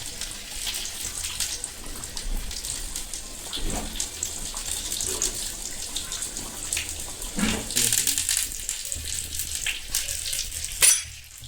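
Hot water poured into a cooking pot while making Kerala-style sambar, a steady broadband watery rush running throughout, with a few louder splashy bursts near the middle and the end.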